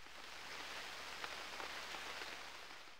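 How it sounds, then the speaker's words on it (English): Steady rain falls in the Unreal World video game, a constant close hiss with scattered droplet patter and no voices. "It's raining."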